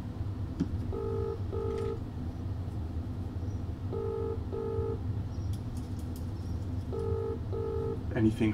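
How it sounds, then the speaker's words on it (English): Telephone dialing tones beep in three short clusters of paired pulses over a steady low rumble of background noise, followed by a brief clatter at the end. "Just give a call on the telephone first."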